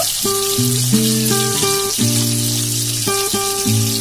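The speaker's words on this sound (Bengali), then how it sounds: "পেঁয়াজগুলো একটু লাল লাল করে ভেজে নেব।" Steady sizzle of onions frying in oil, a constant hissing crackle with faint tonal clinks and hums over it, close and fairly loud.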